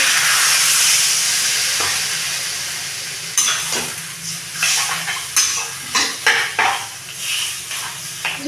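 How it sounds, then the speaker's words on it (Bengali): Vegetables for Bengali shukto, eggplant among them, sizzle in a pan as water goes in: a loud hiss fades, then short rhythmic scraping stirs and spatters repeat close by. "সবজিগুলো ভাজা হয়ে গেছে এক বাটি জল ঢেলে দেবো"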